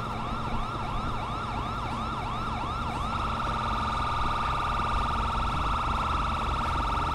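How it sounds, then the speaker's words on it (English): A police car siren in LSPDFR, a rapidly wailing yelp cycling for about three seconds before switching to a faster, steadier tone, loud and close over engine and road noise. "I'm gonna take off that annoying siren."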